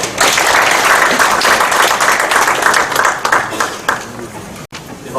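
Loud, close applause at a Democratic Party farmers' rally and launch ceremony, a thick burst of clapping that thins out and tapers off near the end.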